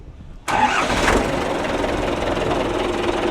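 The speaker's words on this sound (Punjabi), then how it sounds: "ਚੈੱਕ ਕਰੋ ਮਿੱਤਰੋ ਟਰੈਕਟਰ ਦੀ ਆਵਾਜ਼ ਦੇਖੋ ਕਿੰਨੀ ਘੈਂਟ ਆ" A mechanic-built Mahindra tractor engine cranks and catches abruptly, then settles into a loud, steady rumbling idle close by.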